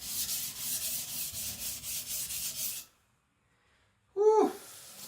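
A custom K-tip gyuto of AEB-L steel hardened to HRC 66 is stroked on a sharpening stone, giving about three seconds of close, rhythmic rasping strokes, then silence, then a short vocal sound.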